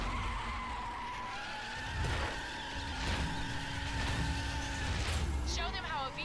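Racing cars skid and squeal through a race in The Crew video game, engines droning steadily with a rising tire screech near the end, while voices talk over the action.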